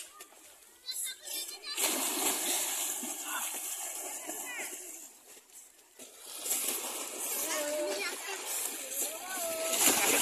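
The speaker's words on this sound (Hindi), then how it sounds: "अब मैं जा रहा पानी के अंदर घुसने के लिए" A person wades and splashes into river water, repeated sloshing bursts mixed with shouting and chatter from several children playing nearby.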